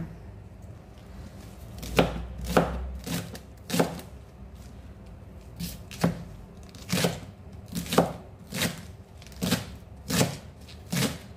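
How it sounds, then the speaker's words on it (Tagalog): A knife slices spring onion on a cutting board in a home kitchen, about a dozen crisp, evenly spaced chops close up, with no talk. "Slice natin ang spring onion."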